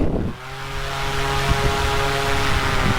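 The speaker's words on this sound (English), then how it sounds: "So let's go for takeoff, throttling, leaning back." A paramotor engine and propeller throttle up for takeoff, a loud, close, droning buzz with steady tonal hum that rises quickly and holds strong throughout.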